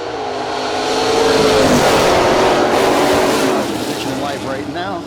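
Drag race cars, an '89 Mustang and a '78 Monza, roar loudly down the strip for several seconds, the engine noise swelling and then fading, with no talk over it.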